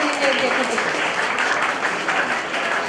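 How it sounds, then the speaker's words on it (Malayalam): Audience clapping steadily at a Kerala private headmasters' association annual conference in Thrissur, a dense, sustained round of applause that cuts off sharply at the end. "നല്ല കൈയടി കൊടുക്കൂ നമ്മുടെ"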